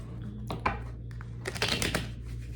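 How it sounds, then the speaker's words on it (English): Tarot cards being shuffled close by, a few quick riffling and snapping bursts over a low steady hum, with no talking. "let me just shuffle"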